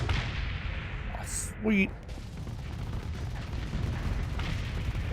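Torpedoes strike ships in the space combat game Starsector, a heavy muffled burst of impacts standing out over a dense, continuous rumble of battle noise, with a brief spoken exclamation.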